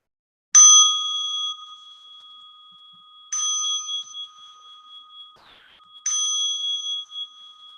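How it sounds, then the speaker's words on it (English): Three clear bell strikes spaced a few seconds apart, each ringing out bright and sustained before slowly fading, with quiet between. "As you listen to the bell"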